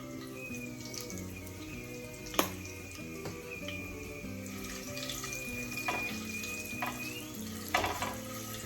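Curry leaves and asafoetida splutter in hot oil as tempering for tamarind pickle, a steady low frying hiss with occasional crackling pops over a faint background hum and whine.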